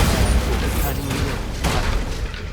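A booming Bombarda blast spell in the video game Hogwarts Legacy, a heavy low rumble with a sharp burst near the middle, filling the short moment with no voices.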